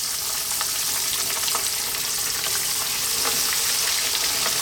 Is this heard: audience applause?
no